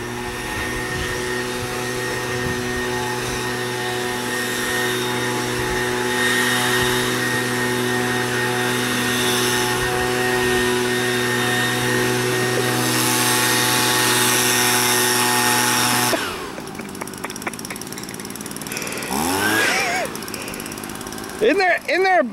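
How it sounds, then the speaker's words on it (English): A neighbor's leaf blower clearing leaves in a Cincinnati suburb during severe weather, its steady tonal motor drone holding for about sixteen seconds before cutting out, leaving scattered softer noises behind. "my neighbor is blowing his leaves"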